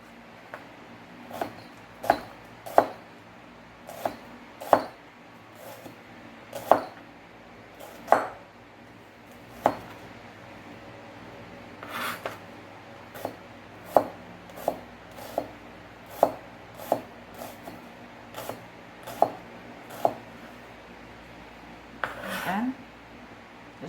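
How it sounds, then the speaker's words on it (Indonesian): A knife chops an onion on a cutting board in steady, evenly spaced knocks, about one each second, close and distinct over a low background hum. "Sebelumnya kita potong dulu nih bawang bombaynya"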